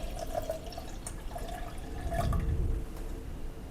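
Water pours from a glass into a vessel of yogurt and salt for spiced buttermilk, a soft splashing trickle that swells into a fuller, louder gush near the end before easing off.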